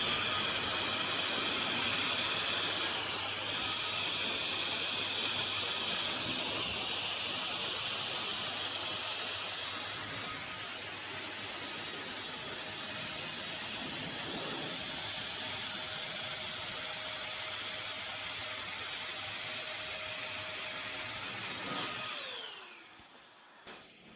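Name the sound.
Chemicalworkz car dryer blowing air over car paint at full power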